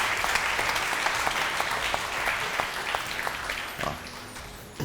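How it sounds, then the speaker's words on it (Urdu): Studio audience applause on a Ramadan charity TV segment, dense steady clapping that fills the whole stretch at a loud, even level with no talking. "ان کے لیے بہت ساری تالیاں"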